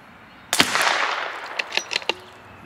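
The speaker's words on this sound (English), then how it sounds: "It's a little cool out this morning, so may shoot 10 to get it warm" A CZ 457 MTR rimfire rifle firing Eley match ammunition at a 50-yard outdoor range gives one sharp, close crack with a short trailing echo, followed by a few softer clicks of the action.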